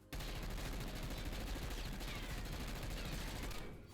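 A gun in the video game Warzone empties its magazine on full auto with no recoil control, a dense, loud, unbroken stream of shots that stops abruptly at the end and leaves no room for speech.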